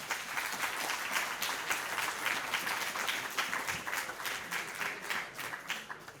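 Audience applause at a French popular-science talk on mathematics, a dense sustained wash of clapping from a large crowd filling the whole stretch at steady loudness.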